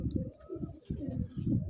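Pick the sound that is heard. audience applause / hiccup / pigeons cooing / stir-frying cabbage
pigeons cooing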